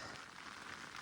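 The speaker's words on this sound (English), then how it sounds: "Got a lot of rain." Heavy rain falling on a mountaintop summit at Mount Davis, Pennsylvania, a steady, dense wash of noise with no breaks and no voices, faint and distant in level.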